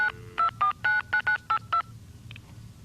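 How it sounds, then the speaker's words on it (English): Telephone touch-tone dialing of a local access number, a rapid run of about eight loud DTMF beeps in quick succession followed by a couple of fainter tones, with no talking. "You'll dial a local access number to get into the system, that's 7 digits, the number that you're calling, another 10"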